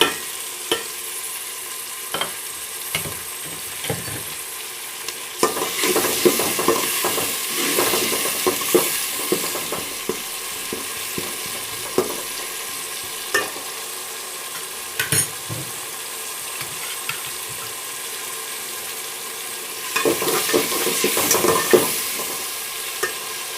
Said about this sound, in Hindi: तो 2 मिनट के लिए हमने इनको भून लिया